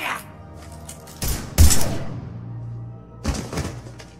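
Gunfire in the sci-fi shooter Mass Effect 3, a few heavy booming shots and thuds with a deep rumble in between, loud and close, partly mixed with game voices.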